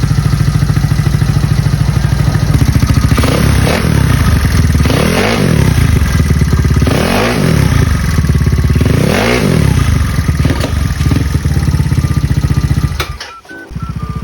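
A Mio Sporty motorcycle fitted with a Replica Pro exhaust runs close by, holding a steady, fairly quiet idle broken by four rhythmic revs that rise and fall before the engine cuts near the end.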